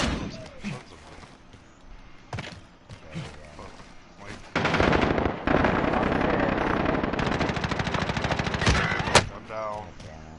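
Light machine gun fire in a multiplayer shooter video game: scattered single shots and short bursts at first, then a loud sustained stream of rapid automatic fire, with a voice briefly heard.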